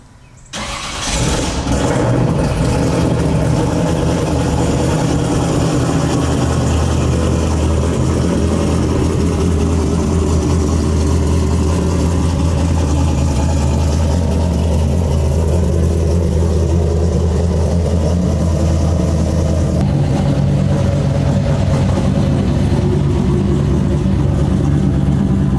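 A C6 Corvette drift car fires up after a brief quiet moment, then settles into a loud, steady, deep idle that holds close and continuous, with a slight lift in tone near the end.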